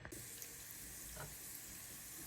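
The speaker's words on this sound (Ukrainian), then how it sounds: "наше сало потрошки-потрошки починає топитися, піджаруватися" Lard melting and starting to fry in a pan, a steady soft sizzle with faint crackles, quiet and close.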